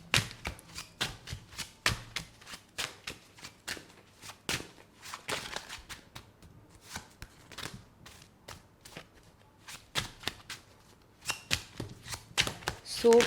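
Tarot cards are shuffled and drawn close up in a steady run of crisp riffling slaps and flicks, quick bursts with short pauses, and faint speech in places.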